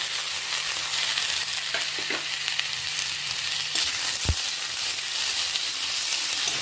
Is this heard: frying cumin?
yes